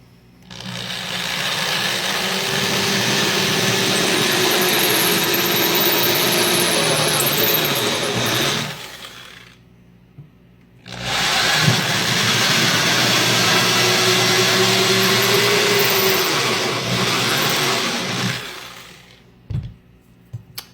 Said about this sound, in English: now we've switched out to a 3/16 drill bit, and we'll make the final holes for the screws